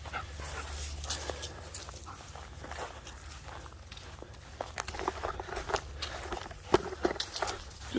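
Dogs scamper about outdoors, giving off a steady rustle of paws and movement with scattered sharp taps and a few faint whimpers and pants, fairly close and continuous throughout.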